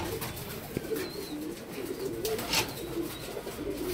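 Pigeons cooing inside a breeding room, soft repeated throaty coos from several birds close by over a steady background hum, with no one speaking.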